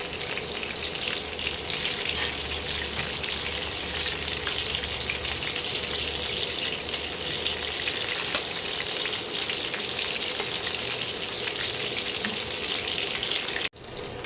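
Pieces of lote fish fry in hot oil, giving a continuous, dense sizzle that crackles steadily throughout, loud and close, with a brief clatter near the end.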